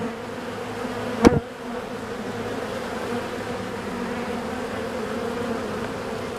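Honey bees hum steadily at a hive in an apiary, a continuous buzzing drone that stays even throughout, with one brief loud tap near the start and no talking.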